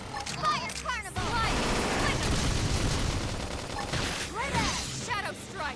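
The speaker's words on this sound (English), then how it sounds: "Try toppling it with gunfire." Rapid gunfire in the mech combat game Xenoblade Chronicles X, loud bursts and crackling volleys over battle effects, with voices calling out between shots.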